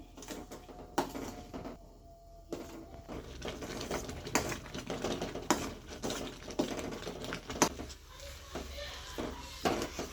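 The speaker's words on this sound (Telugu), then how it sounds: "ఇప్పుడు కొంచెం కొంచెం రవ్వ వేసుకుని కలుపుకుందాం" Semolina is added bit by bit to a pan of simmering upma base and stirred, with repeated scraping and knocking of a spoon against the pan in an uneven rhythm, close by.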